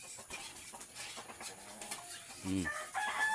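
A mother hen with her chicks gives soft clucks, faint and brief against a noisy outdoor background.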